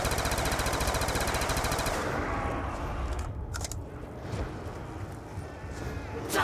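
Upgraded M27 rifle from COD Zombies fires a rapid sustained burst, dense and loud for about two seconds, followed by scattered game sounds and softer impacts.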